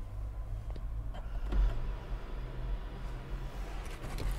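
The electric sunroof of a 2023 Hyundai Verna SX opens with a low, steady motor hum and faint mechanical clicks, quiet and heard from inside the cabin.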